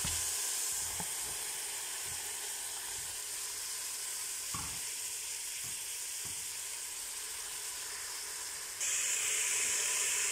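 Beans are poured into a pan of well-fried tomato paste with peppers, and a soft, continuous sizzle and hiss follows. Faint stirring taps come through, and the frying grows slightly brighter near the end.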